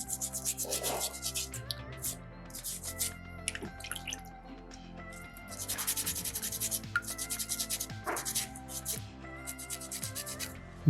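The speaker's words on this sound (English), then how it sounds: "I'll do my final shaping on that piece with the sandpaper number 2" Sandpaper rubs a small soapstone bison horn in repeated close, raspy strokes, coming in rhythmic runs with brief pauses over soft background music.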